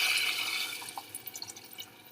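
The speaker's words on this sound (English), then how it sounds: "So we will add water into it to complete the cooking process." Water is poured into a pot of cooking lentils and rice for kitchari, with a splashing pour fading into a few small drips and trickles, close and faint.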